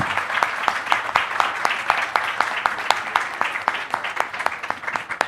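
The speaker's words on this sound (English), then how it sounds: "So please join me in a round of applause for our wonderful distinguished speakers" A conference audience at the COP16 Nature Positive Pavilion applauds its speakers, moderate clapping with distinct, fairly rhythmic hand claps standing out over a lighter patter from the room.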